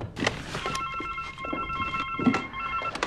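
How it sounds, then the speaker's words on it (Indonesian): A telephone rings in a film scene, a faint repeating electronic ring mixed under background sound. "Tracy mendapat telepon dari Nancy di mana Nancy sudah mendapatkan tawaran balasan untuk masalah Tracy."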